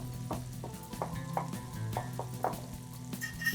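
Dragon chicken frying in a wok sizzles steadily, with repeated stirring scrapes and clinks at a close, even level; no one speaks.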